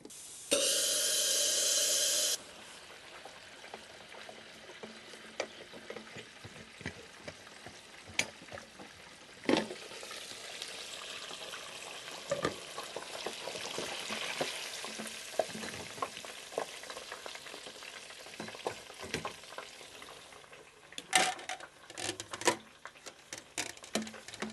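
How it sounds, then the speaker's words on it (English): Chicken pieces frying in hot oil inside a lidded pressure fryer, a steady sizzling hiss with occasional clatter and shaking, close and continuous without speech. "And same as before, into the oil, give it a bit of a shake so nothing's sticking."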